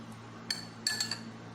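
Yogurt mixed with green chili and garlic paste in a bowl gives a few soft clinks of a spoon against the bowl, quiet and brief, with no talk.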